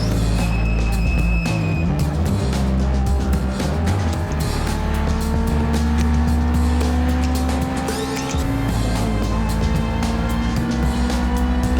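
Race car on a circuit track powering hard out of a corner, a loud, close engine climbing steadily in pitch through the gears, with rising harmonic whine and brief shifts, no talking.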